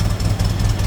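A 1924 Ford Model TT C-Cab flatbed engine idles steadily up close, a low, even rumble with a light knocking pulse running through it and no voices.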